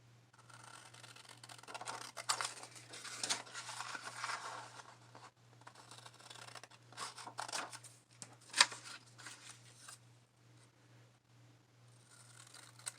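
Scissors cut a section out of a page from a children's dictionary: close, rustling snips and paper scratching in irregular bursts, with one sharp click, and no one speaking.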